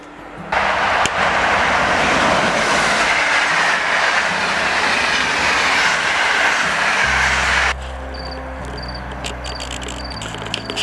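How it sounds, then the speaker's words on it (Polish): An express passenger train roars past close by, a loud steady rush with rumbling undertones, then cuts to a quieter low hum with faint rhythmic clicks. "No jedzie pociąg pośpieszny z siódemeczką"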